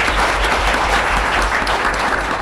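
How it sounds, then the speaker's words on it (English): An audience at a university talk on same-sex marriage and the Constitution breaks into a full round of applause, dense and steady clapping filling the room, loud and without any speech. "Let's give a round of applause for David."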